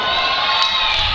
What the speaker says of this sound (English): This Minot crowd behind him.